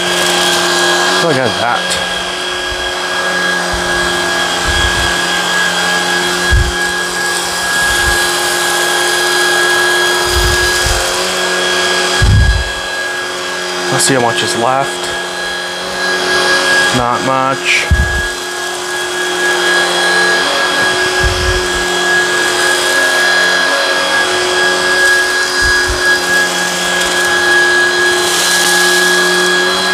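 A Shark Vertex cordless vacuum on carpet in normal power carpet mode with the brush roll on high, running as a loud steady whine with a high tonal pitch, rattling and clunking as it moves, while a person talks briefly over it.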